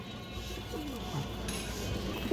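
Pigeons of breeds such as Chila and Gorra coo softly in a few low warbling calls under steady background noise, with no one speaking.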